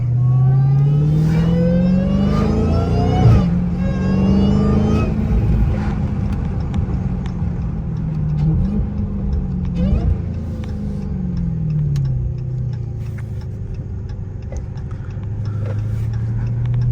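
Dodge Hellcat driving with a loud, continuous supercharger whine over the engine, rising and falling in pitch as it accelerates, close and steady throughout.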